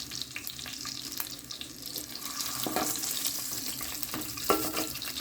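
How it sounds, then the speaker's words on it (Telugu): Scored eggs rubbed with turmeric fry in oil for an Andhra-style egg and potato curry, giving a steady, moderate sizzle with scattered pops and crackles close by, no speech. "నేను గుడ్లకి గాసులు పెట్టుకుని పసుపు రాసుకుని వేయించుకుంటున్నాను"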